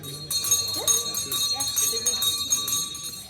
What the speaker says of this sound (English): We found the bell, so we had to ring it.